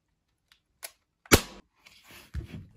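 An Umarex X.B.G air pistol fires a BB with a single sharp, close snap, preceded by a couple of faint clicks and followed by soft handling rustle and another small knock.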